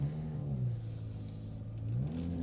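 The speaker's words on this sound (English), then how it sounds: "I'm barely tapping the gas right now." A 2019 Chrysler 300S fitted with a Pedal Commander throttle controller revs up in a parking lot, its engine tone rising and falling steadily, close and loud, with no talking.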